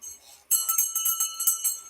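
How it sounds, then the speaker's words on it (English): A small handheld bell rings out suddenly after a brief quiet moment, its bright metallic tone shimmering through a series of quick jangling strikes close by. "Where's my bell?"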